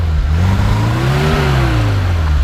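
A 1976 BMW 2002 Coupe engine is revved close by, its pitch climbing and then falling back in one smooth blip over a steady idle, with no talking.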